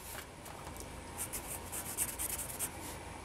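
A marker or scribe drawing slot lines across a metal plate for a homemade generator interlock, a close, steady scratching rub with a few sharper strokes, no talking.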